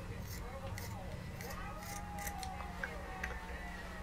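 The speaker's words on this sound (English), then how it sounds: "So I'm going to cut straight down." Fabric scissors cut straight down through a cotton T-shirt, a series of quiet, crisp snips spaced irregularly over a low, steady background.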